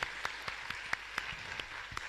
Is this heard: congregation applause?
yes